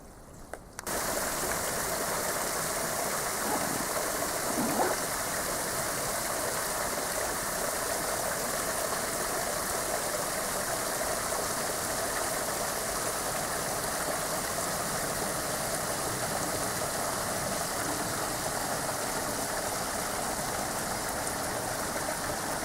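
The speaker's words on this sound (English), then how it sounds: "some water where it's running out of the rocks" Water runs out of the rocks inside an abandoned railway tunnel among ice and icicles, a steady, even trickling rush that continues throughout with no other sounds.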